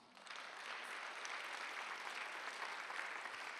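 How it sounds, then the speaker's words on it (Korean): Applause from a church congregation during a Sunday worship service, rising quickly into a dense, even burst of many hands clapping that holds steady to the end. "이해 간 사람만 박수 보세요."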